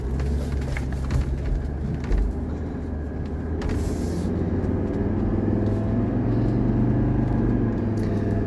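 A 1985 Mercedes 300SD rumbles along on a test drive, a steady low engine and road drone heard from inside the car with no talking.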